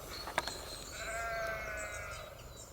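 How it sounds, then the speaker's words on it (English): Sheep bleat from a distance on a hill behind a cottage, a few wavering calls overlapping softly over quiet outdoor ambience. "You can hear the sheep up on the hill behind the cottage."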